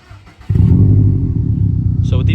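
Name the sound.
2021 Subaru WRX STI engine startup with muffler delete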